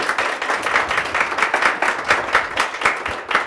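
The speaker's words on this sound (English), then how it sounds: "let's give Taylor Berger a round of applause real fast" An audience applauds at a startup meetup, giving dense, continuous clapping from many hands in a room that stays steady for several seconds without talk.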